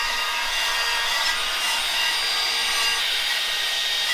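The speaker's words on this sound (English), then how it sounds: "I'm just gonna hit it with a wire wheel. Just kind of get a little bit of the rust off." Wire wheel scrubbing rust from a transmission, a steady abrasive hiss and rasp running without a break, close and moderately loud, with no talk.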